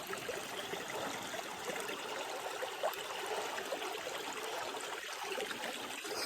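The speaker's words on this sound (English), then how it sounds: "Oh, what a lovely water feature." A small stream trickles through a water feature beside a hiking trail, a steady close babble of running water with no voices.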